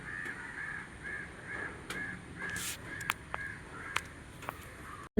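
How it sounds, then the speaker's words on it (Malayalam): Crows caw repeatedly in a morning outdoor setting, with sharp calls rising above a steady bed of birdsong and light ambient noise. A few clear caws stand out near the middle, and no one speaks. "അതുകൊണ്ട് കാക്കകളുടെയും കിളികളുടെയും സൗണ്ടൊക്കെ കേൾക്കാം"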